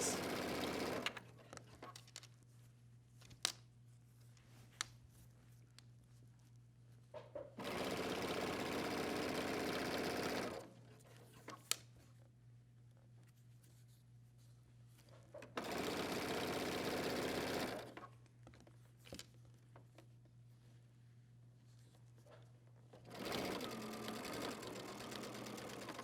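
A sewing machine stitches a hoodie seam in three loud, steady bursts of rapid whirring, each lasting a few seconds. Between the bursts come quieter stretches of faint handling clicks and a low hum.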